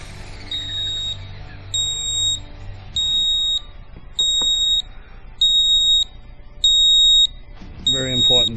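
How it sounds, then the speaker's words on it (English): A Trex 450 clone RC helicopter's low-battery alarm chirps in short, evenly spaced high beeps, about seven in a row, with a voice coming in at the end. "Very important battery alarms."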